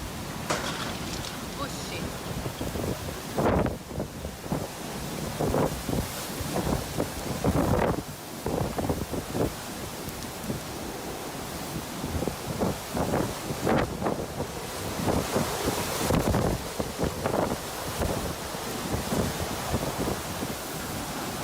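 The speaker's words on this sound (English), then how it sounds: "Hurricane-force winds kept one local woman in place while she recorded the storm from her car." Hurricane-force derecho storm winds roar and buffet outside a car in steady, loud broadband rushing, with repeated sharp gusts and rattling bursts throughout.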